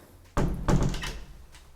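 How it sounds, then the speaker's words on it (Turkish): A door is shut and locked: a solid thunk followed quickly by a second knocking clack of the lock, close and fairly loud, then fading. "Kapıyı da kilitledik artık."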